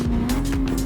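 A Honda Civic in Gran Turismo 7 brakes hard from around 150, its engine droning loud and close under a sustained tire squeal with a steady whine running through the whole second.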